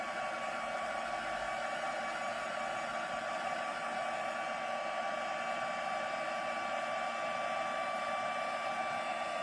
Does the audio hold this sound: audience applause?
no